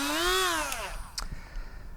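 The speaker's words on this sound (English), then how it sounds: "And for that we need a Dremel." A battery-powered Dremel rotary tool working on a Torus model whines briefly, rising then falling in pitch, followed by a few faint clicks and taps.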